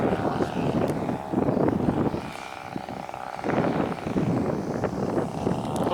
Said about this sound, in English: It's some ridiculous wind.